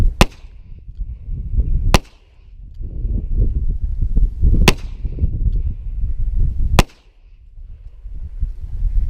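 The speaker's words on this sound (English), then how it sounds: "so now I'll load up 6 more and we'll shoot them out single action" Four loud, sharp Smith & Wesson Model 29 revolver shots fired single action, fitted with a Wolf trigger kit, spaced a couple of seconds apart, each cracking out of steady background noise.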